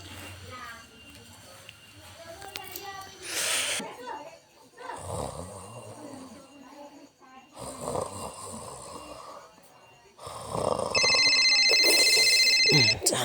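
A telephone rings loudly near the end with a bright, steady electronic trill lasting a few seconds, after stretches of snoring-like breathing, chuckling and voices talking.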